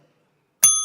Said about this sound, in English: The final bell will be at 120 seconds, which will sound like this.